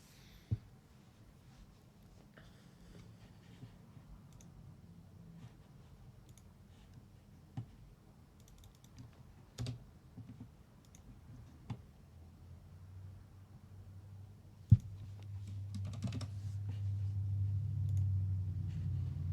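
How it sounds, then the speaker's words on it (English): Clicky keyboard keys tapped sporadically: scattered sharp, isolated clicks over a quiet room, with a low hum swelling in the last few seconds. "You can tell if I'm distracted or not by the clicky clacky of my keyboard"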